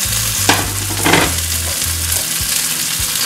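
Quartered potatoes and mushrooms fry in a pan, a loud close sizzle broken by two sharp stirring scrapes early on, with a low musical hum underneath.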